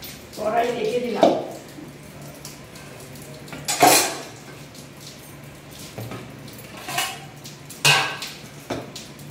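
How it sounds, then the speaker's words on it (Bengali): A kadai set down in a home kitchen while cooking a Bengali chitol fish curry: several sharp metallic clanks and scrapes spaced a few seconds apart, fairly close, with a voice briefly heard in the background. "কড়াই রেখে দিলাম।"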